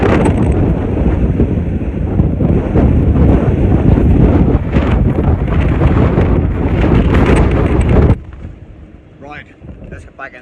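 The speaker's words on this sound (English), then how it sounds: "the winds got even stronger, and when it really gusts, I mean, you can barely see anything" Strong gusts of a Sahara sandstorm in Morocco roar and buffet the microphone with heavy, constant rumbling for about eight seconds, then drop away abruptly to a quieter, sheltered background.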